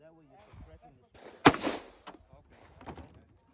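Gunshots at an outdoor gun range: one sharp, loud report stands out, followed by a few fainter distant shots, with people talking quietly around them.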